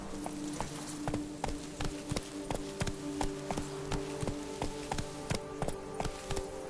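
Roach, a horse in The Witcher 3: Blood and Wine, trots with crisp, evenly spaced hoof clip-clops, close and fairly quiet over a faint ambient bed.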